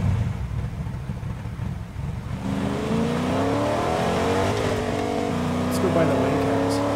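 A car drives in the video game Fortnite, its engine rising and revving steadily up close with a faint tire squeal, heard under a voice talking.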